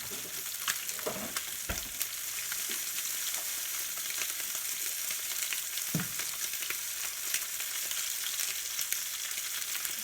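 Chicken thighs fry skin-side down in garlic butter in a skillet, giving a steady, close hiss of sizzling fat with a few sharper pops and spatters throughout.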